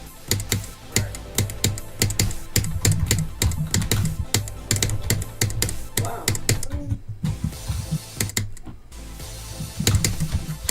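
Rapid, continuous typing on a membrane computer keyboard, close and busy with dense clustered keystrokes throughout, briefly thinning for a moment before resuming, with faint talk underneath.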